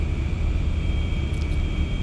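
Steady whine and rumble of idling jet engines on an MD-80 airliner in X-Plane 11, a constant drone with a thin high tone held throughout, no talk.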